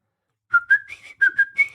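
A person whistles short, bright, warbling notes in two quick groups of three, imitating a whistling shaman, close and clear with no talking.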